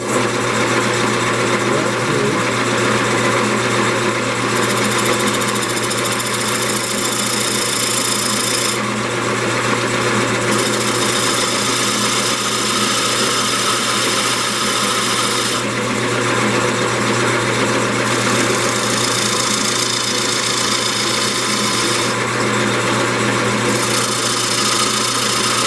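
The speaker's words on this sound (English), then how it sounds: "I'm gonna mount this back on the lathe, and all I'm gonna do is just kind of cut a little" A wood lathe spins a mahogany candy dish while a tool cuts a groove: a steady motor whine and hum runs throughout, with bursts of brighter scraping and cutting noise coming and going every few seconds.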